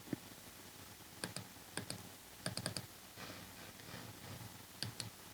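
A computer keyboard clicks in several quick bursts of keystrokes, each a short run of sharp, close taps separated by brief pauses, with a faint room hum between them and no voices.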